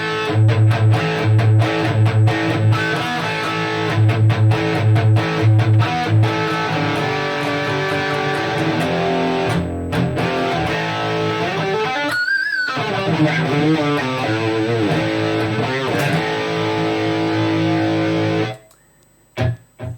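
Electric guitar played through a Kemper amp profile with the reverb switched off, loud distorted chugging rhythm riffs and sustained chords that cut off abruptly near the end, leaving a few dry stabs.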